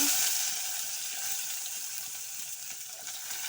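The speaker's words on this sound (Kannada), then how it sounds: "ಈರುಳ್ಳಿ ನೋಡಿ ಈರುಳ್ಳಿ ಎಲ್ಲ ಸ್ವಲ್ಪ ಫ್ರೀ ಆಗಿದೆ" Onion frying in a pan with chillies and ginger for vegetable upma, a steady hissing sizzle heard close and fairly loud, holding evenly without pause.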